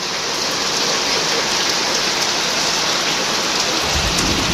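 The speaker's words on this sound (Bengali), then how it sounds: "এই যে বৃষ্টি নামতেছে আলহামদুলিল্লাহ অবশেষে ফরিদপুর জেলায় বৃষ্টি হচ্ছে" Heavy rain pours down in Faridpur district, Bangladesh, under dark storm clouds. It makes a loud, steady, dense wash of falling water that continues without a break, with no voices.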